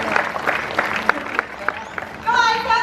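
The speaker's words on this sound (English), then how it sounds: "how about we give her a round of applause?" Clapping from the audience at the Tiger Island tiger show at Dreamworld on the Gold Coast, Australia: a sparse, even run of distinct claps about a third of a second apart, followed by a brighter, sustained sound at the end.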